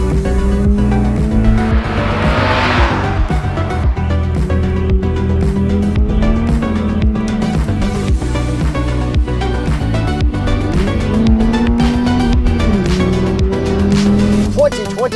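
A manual 2022 Subaru BRZ sports car being driven, its engine droning steadily with rising and falling revs through gear changes and a brief tire noise, while people talk inside the cabin throughout.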